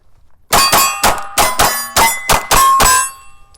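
Eight rapid gunshots strike steel targets in a fast string, each sharp crack followed by a bright metallic ring, loud and close.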